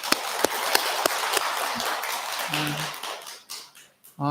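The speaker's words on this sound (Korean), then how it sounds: "여러분들을 위해서 큰 박수 한번 부탁드립니다." A Buddhist temple congregation in a Dharma hall claps sparsely, a few distinct sharp claps over a thin patter that quickly dies away, followed by a brief tone and a voice starting at the end.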